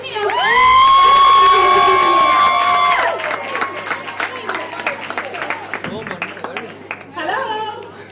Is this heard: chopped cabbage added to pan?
no